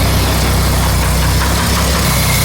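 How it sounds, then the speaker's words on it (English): A 1947 International KB-1 truck engine, long unused and freshly restarted, idles steadily with a low, even rumble and faint rhythmic knocking, close and continuous with no voices. "Oh, it purrs like a kitten."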